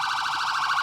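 An Allina Health ambulance at a town parade gives a short, loud siren blast, a steady wailing tone that fills the brief moment with no voices over it.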